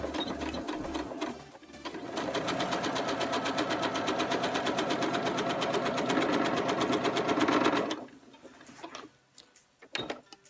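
A sewing machine stitches a skirt side seam in a steady, rapid run of close mechanical ticking for several seconds, then stops, followed by a few faint handling clicks.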